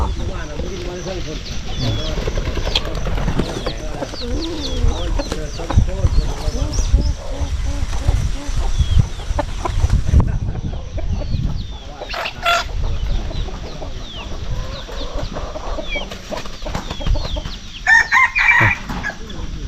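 Chickens cluck and a rooster crows outdoors on a rural fishing outing, the calls rising repeatedly over steady background noise while someone talks throughout.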